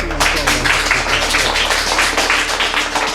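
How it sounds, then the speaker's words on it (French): Dense, steady applause from a group at a ceremony in a drama scene, many hands clapping continuously and loudly throughout. "Applaudissez!"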